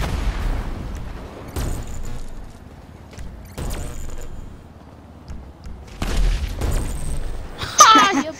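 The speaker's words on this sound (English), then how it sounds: "You blew yourself up." Explosions from the video game GTA, a few heavy booming bursts with low rumble, spaced several seconds apart, plus a sharper crack near the end, at moderate loudness with no talk.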